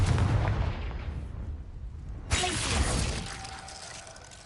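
A Confringo explosion spell in a video game erupts with a sudden loud blast and shattering burst midway, following a rumbling, crackling stretch and fading into a lingering tail.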